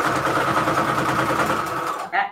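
A sewing machine runs steadily while stitching Christmas jar embellishments, a continuous close mechanical whir with a rapid needle rhythm that stops abruptly near the end; a voice speaks briefly over it.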